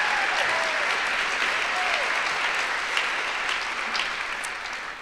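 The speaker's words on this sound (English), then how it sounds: "A big round of applause." Audience applause at a memorial celebration of life, a dense, sustained wash of many hands clapping at close range, steady and unbroken with a few faint voices in the crowd.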